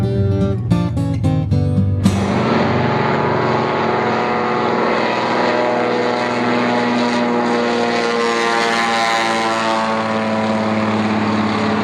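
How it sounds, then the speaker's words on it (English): A fully restored Norseman floatplane flies in toward a lakeside lodge, its radial engine and propeller droning loud and steady throughout, opening with a stuttering rhythmic pulse before settling into a continuous roar. "He flies a fully restored Norseman, and today he's bringing it into the lodge to pick me up"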